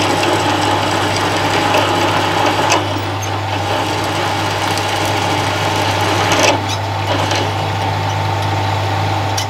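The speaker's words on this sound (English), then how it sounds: "Starting to get to the larger size drill bits now then." A metal lathe drills through a steel workpiece with a 14mm bit, giving a loud, steady mechanical whir with a constant low motor hum and faint scraping cutting noise, running continuously with no talking.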